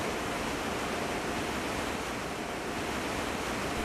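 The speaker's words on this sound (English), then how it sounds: "the sea is getting rougher and our ship already rocks considerably" Rough sea around a ship near the Falkland Islands, a continuous broad roar of waves and rushing water with wind, steady and fairly faint, no voices.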